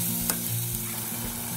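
Spices fry in a pan for a fish curry, a steady sizzle with a brief stirring scrape, close and alone.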